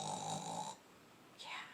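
A person imitates snoring with their voice: a nasal rasping inhale, a short pause, then a softer rising breath, fairly close and quiet.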